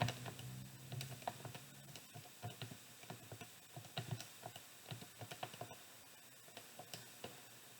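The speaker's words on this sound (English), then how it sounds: "I'm going to type this into my calculator." Numbers being keyed into a calculator, a quick, close run of light plastic button taps in irregular bursts that continue throughout over a soft background hum, with no voice.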